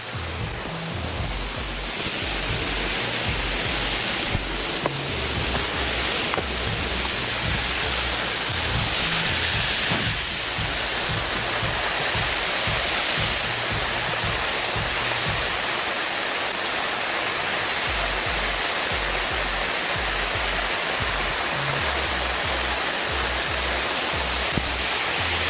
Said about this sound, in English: I'm gonna walk across this ledger, sort of like observe the waterfall, and hoping that you can hear it